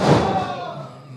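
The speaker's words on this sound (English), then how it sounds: "Big suplex." A wrestler slammed onto the ring mat by a suplex at a wrestling event, one heavy thud right at the start that rings out and fades under crowd noise.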